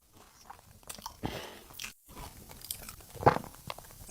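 Someone bites into a crisp, deep-fried traditional Algerian pastry with pecan flavour, giving a few close, sharp crunches and crackly chewing sounds with no talk.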